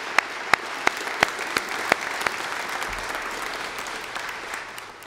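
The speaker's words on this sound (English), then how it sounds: "So let's give these folks a round of applause as well," Church congregation at a worship service applauding, a sustained crowd of clapping with a few sharp, louder claps near the start, gradually fading toward the end.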